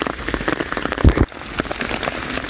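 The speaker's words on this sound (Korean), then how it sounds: "빗소리 딱 들어가면서" Steady patter of rain falling close by, dense crackling drops with a brief louder thump partway through.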